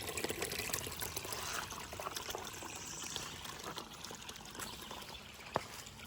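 Continuous water trickling and splashing over rocks at a stream on the Appalachian Trail in New England, a steady babbling flow with a brief sharper drip or knock near the end.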